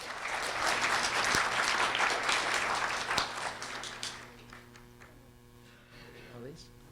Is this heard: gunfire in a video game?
no